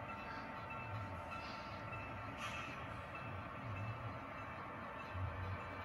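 A train on the Maine Central line at Brunswick, Maine rolls past with a continuous low rumble and periodic wheel thumps, moderately distant and steady throughout.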